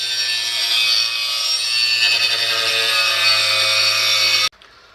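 A hand saw rasps back and forth through a small metal pad clip held in a vise, a steady, dense scraping that runs close and loud for over four seconds before stopping abruptly.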